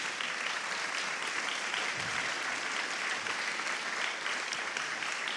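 Sustained applause from an audience at a French political talk, dense and steady clapping throughout without any pauses.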